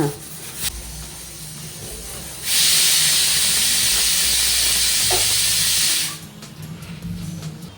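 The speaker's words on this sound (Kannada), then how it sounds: "ಒಂದು ಕಡೆ ಕುಕ್ಕರ್ ಸಿಟಿ ಇದೆ ಅನ್ನಕ್ಕೆ ಇಟ್ಟಿದ್ನಲ್ಲ" A pressure cooker whistle on a home kitchen stove, cooking rice, lets out a loud, steady steam hiss lasting about three and a half seconds, rising sharply and cutting off cleanly, with quieter kitchen clatter before and after.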